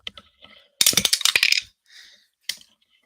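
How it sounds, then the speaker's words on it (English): Dice for an APBA tabletop baseball game tumble onto a hard surface in a short burst of quick clattering rattles, with a few lighter clicks before and a single sharp tap after, close and alone. "as we drop the dice"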